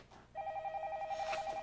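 A telephone rings with a steady, warbling electronic trill in a quiet office setting, one clear ring starting after a brief pause and sounding close and moderately loud.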